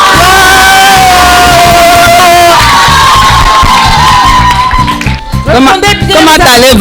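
Children at a kindergarten event shout and cheer with joy, a loud, sustained crowd of young voices whooping together, with a brief dip before a fresh burst of cheering.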